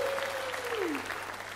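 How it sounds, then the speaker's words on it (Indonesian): Congregation applause at a church Passover service, a soft, steady wash of many hands clapping from a distance, with a brief tonal sound gliding downward early on. "Boleh kasih tepuk tangan semua buat Tuhan kita"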